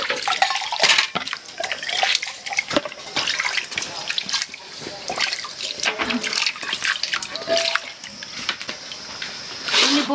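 Water runs and splashes as sponges are washed. The noisy flow continues throughout with scattered clatter, and a voice talks faintly underneath.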